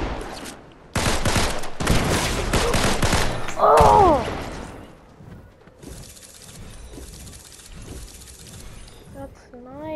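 Gunfire in a video game, a sniper shot among it: loud, dense bursts of shots for a few seconds, then fading to quieter background game noise with voices reacting.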